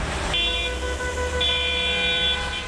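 A car horn blares in traffic in long, sustained honks over a continuous low rumble of vehicles; a first blast is followed by a brief dip and then another extended, loud honk, with no talking.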